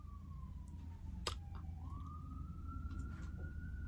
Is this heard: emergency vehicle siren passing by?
yes